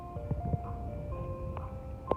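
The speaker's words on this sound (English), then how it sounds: "This motherfucking ice cream truck is playing music." Ice cream truck jingle playing on a street in Los Angeles, a steady looping melody of clear tones heard from a moderate distance over low traffic rumble, with a few brief knocks.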